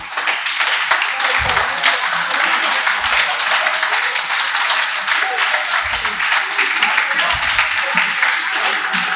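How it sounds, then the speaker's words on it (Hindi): Audience applause fills a stand-up comedy show with loud, continuous clapping at a steady intensity, broken by a few dull low thumps. "जब तक ताली नहीं बजाओगे परफॉर्मर आएगा नहीं।"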